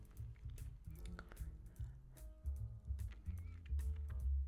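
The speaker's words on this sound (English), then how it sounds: "there was a little crunch when I bit into it" Close, quiet crunching and chewing of a toasted, buttered yeast-free avocado yogurt bagel, with soft irregular bites and squishy mouth sounds continuing throughout and no talking.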